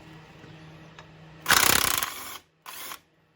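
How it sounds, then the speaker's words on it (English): A half-inch impact wrench removes bolts on a 2004 Polaris Scrambler 500 ATV: a loud, close, rattling burst of nearly a second, a brief pause, then a shorter second burst before quiet. "we're coming with the big guns this time. 1/2 inch impact."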